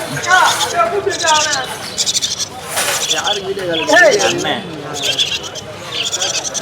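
Young chicks chirp in quick, high repeated peeps at a busy pet market in Chennai, close by and mixed with people talking.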